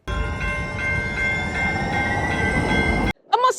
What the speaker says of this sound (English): when you get into the park, you can ride this tram.